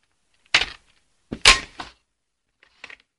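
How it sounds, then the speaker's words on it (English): Plastic clacks and a sliding click as the magazine is pulled from a Bison airsoft rifle, three separate short bursts with silence between, close and crisp. "I'll open the mag out."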